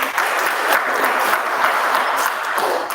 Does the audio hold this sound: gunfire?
no